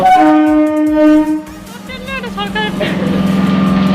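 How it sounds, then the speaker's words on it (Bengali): A train arriving at Jirat station: a sustained horn blast, then a low, rolling rumble of rail cars, with a brief voice in between. "আমাদের ট্রেন জিরার স্টেশনে পৌঁছে গেছে"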